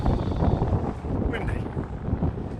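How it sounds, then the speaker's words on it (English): Strong wind on open Dartmoor moorland roars and buffets the microphone in a constant, loud rush, gusting slightly louder and softer throughout. "Windy."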